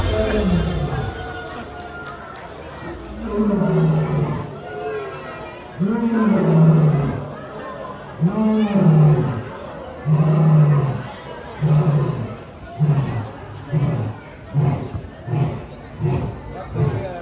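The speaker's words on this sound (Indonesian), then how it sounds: "auman dari singa sewaktu mereka berkomunikasi seperti di habitat aslinya" Lions roar at a safari park show in Indonesia, a long series of deep, rhythmic grunting calls rising and falling in bursts that shorten and quicken toward the end, loud and close with faint crowd noise behind.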